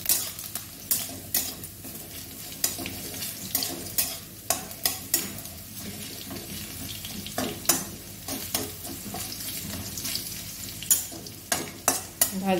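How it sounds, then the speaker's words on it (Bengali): Garlic fries in a pan with dry red chilli and nigella seeds, a steady close sizzle broken by repeated sharp scrapes and clinks of a spatula stirring against the pan. "1 মিনিট একটু ভালো করে ভেজে নেব রসুনটা।"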